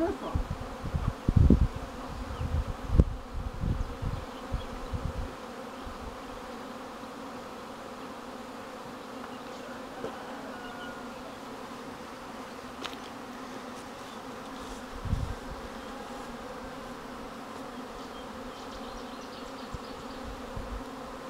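A honeybee swarm leaving its hives in Kabayel village, Tunceli, fills the air with a dense, steady buzzing, with some close knocks and handling noises near the start.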